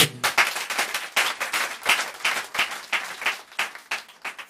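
A church congregation claps together to acclaim God, producing a close, fairly steady run of rhythmic handclaps that lasts a few seconds with no talk.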